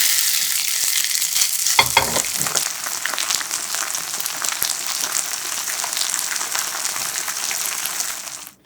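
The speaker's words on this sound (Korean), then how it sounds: "앞뒤로 노릇노릇하게 익혀주세요." Steady frying sizzle of pumpkin pancakes made from aged pumpkin in a hot pan, continuous and fairly loud, with a few clattering scrapes of a utensil near the start.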